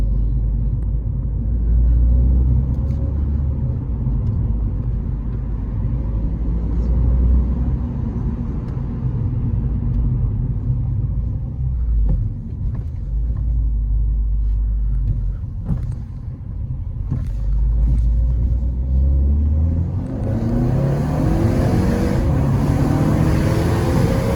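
Mini Cooper Clubman JCW, a hot hatch with over 300 horsepower, on the move, heard from inside as a loud, steady low engine and road drone throughout, rising and shifting in tone toward the end.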